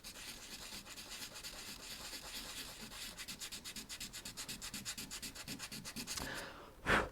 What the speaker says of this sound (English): it's just sanding just a few places